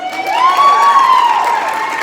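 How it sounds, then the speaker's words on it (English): An audience greets a guest at a leadership event with applause and cheering, a dense crowd roar laced with whoops that holds steady and loud throughout. "Give her a big round of applause"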